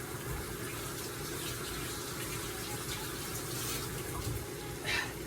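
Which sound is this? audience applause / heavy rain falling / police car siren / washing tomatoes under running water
washing tomatoes under running water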